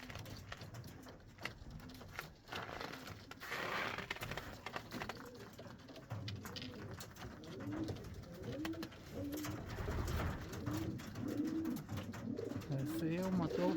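A racing pigeon at its loft coos to a female in repeated low, throaty phrases, fairly close, with soft wing shuffles and background noise between calls; a voice speaks faintly at times.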